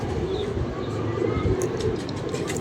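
A Rampuri pigeon coos softly in a loft amid other pigeons, a low repeated cooing somewhat distant beneath a steady background hum, with no one talking.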